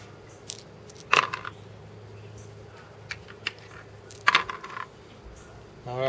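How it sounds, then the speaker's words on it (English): Blue speed dice from the Spartacus: A Game of Blood & Treachery board game are rolled on a table, giving two quick bursts of hard clicking clatter against faint room noise. "each player is going to roll all their blue dice, which are their speed dice, to see who is going to start"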